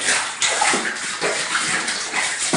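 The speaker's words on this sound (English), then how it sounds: "So you can get a good rinse." A handmade quilt being rinsed by hand in a tub of water, with close, loud sloshing and splashing in uneven pulses as the fabric is moved about.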